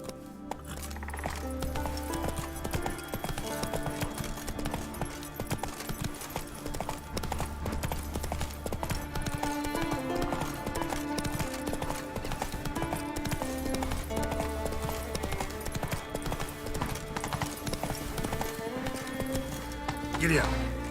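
Roach, a horse in The Witcher 3 video game, gallops with steady, rhythmic hoofbeats. Loud game music plays over them, and someone talks at times.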